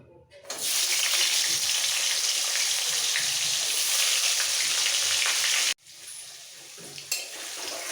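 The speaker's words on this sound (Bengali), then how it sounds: "এই তেলের মধ্যে সবজিগুলো আগে ভেজে নেব আলু বেগুন শিম" Loud, steady sizzling of potato, eggplant and flat beans frying in hot oil, a dense crackling hiss that cuts off abruptly and resumes more softly.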